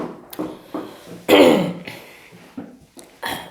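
A single throat clearing from a woman mid-lesson on flower anatomy, one short rasping burst in the middle, surrounded by her quiet speech before and after.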